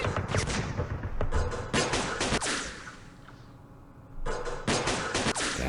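Sniper gunfire in the Campaign Series Middle East wargame, set at Rebel Ridge in Yemen: rapid bursts of loud shots crackle in clusters, fall quiet for about a second, then resume in another volley.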